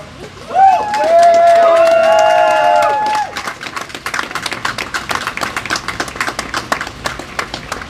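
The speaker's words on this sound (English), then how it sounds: "I want everybody to give one round of applause for all of you" A crowd at a Black Lives Matter protest in Providence claps and cheers together, a dense patter of applause rising after a brief loud whistle-like tone at the start.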